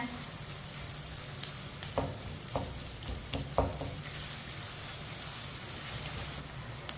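Steady sizzling of onions browning in a pan for dal palak, with a few soft scraping knocks of a spoon stirring at irregular moments.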